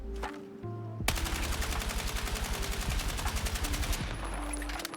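An NVO-228E assault rifle in Battlefield 6 empties a full 30-round magazine in one continuous, rapid automatic burst, loud and close, with steady evenly spaced shots and no talking.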